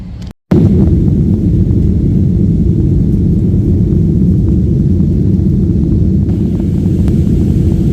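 Steady low cabin roar inside a delayed, hot airliner waiting on the ground, a dense continuous rumble after a brief silent gap at the start, with no voices.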